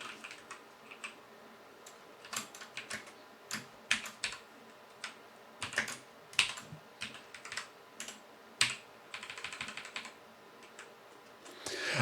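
Keys clatter on a computer keyboard as C code is typed, irregular bursts of close, crisp clicks separated by short pauses, with a quick run of rapid taps near the end.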